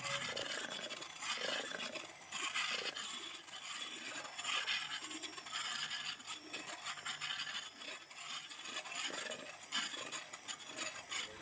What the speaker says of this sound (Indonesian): Dan kemudian kita mixer lagi. Ingat ya, kecepatan mixernya selalu kecepatan yang rendah.